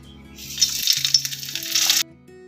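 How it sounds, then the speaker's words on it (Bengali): Cumin seeds, bay leaf and dried red chili hit hot oil for a Bengali tempering, bursting into a loud crackling sizzle that runs about a second and a half and then cuts off abruptly, with faint clinks of utensils at either end. "জিরে তেজপাতা আর শুকনো লঙ্কাটা আমি ফোড়নে দিয়ে দিচ্ছি"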